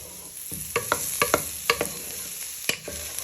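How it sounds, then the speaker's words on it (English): Chorizo frying with onions and garlic in a pan for a smoked fish and chickpea stew, a constant close sizzle broken by a quick series of sharp spatula scrapes and taps, no voices. "you just want to fry this for a few minutes so the flavour can come out into them onions and garlic"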